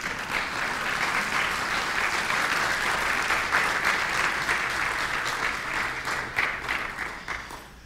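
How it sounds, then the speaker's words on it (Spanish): A church congregation standing and clapping loudly together, a dense, sustained wall of applause that carries on for several seconds before tapering slightly at the end. "¿Le podemos dar un fuerte aplauso al Señor?"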